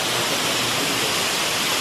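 A waterfall at Lulumahu Falls pours in a dense, loud, unbroken rush of white noise, close and steady throughout.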